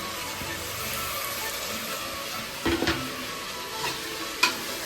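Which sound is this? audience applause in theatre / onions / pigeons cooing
onions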